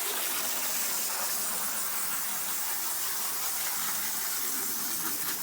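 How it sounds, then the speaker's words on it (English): Garden hose spraying water onto dark, weathered cedar shake siding, rinsing it off: a steady, loud, close hiss and gush of spray that holds without a break throughout. "See, that's just garden hose pressure."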